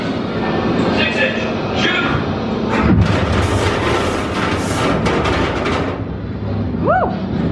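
A simulated 6-inch naval gun firing aboard the warship HMS Belfast, heard as a loud booming rumble in an echoing interior, with people talking and exclaiming throughout.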